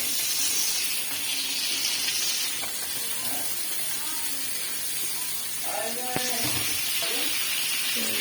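Onion and sliced bitter gourd frying in a hot pan, giving a steady broad hiss and sizzle throughout, with a few faint clinks and brief spoken sounds underneath.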